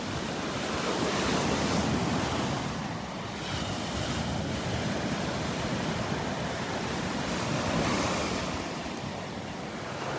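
Ocean surf rolls steadily onto the beach at Delnor-Wiggins around the trunks of dead trees standing in the water, a loud continuous wash with gentle swells and wind buffeting the microphone, no voices.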